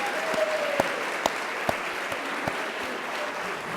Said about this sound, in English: why don't we give a round of applause for those I just announced